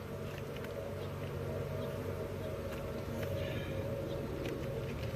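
Honeybees hum and drone steadily at an open hive during an inspection, a dense continuous buzz with scattered louder passes of individual bees close by, no voices over it.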